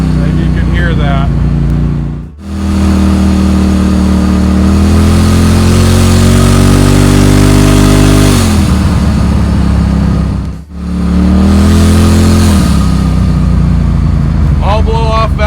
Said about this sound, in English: All blow-off valve all the time.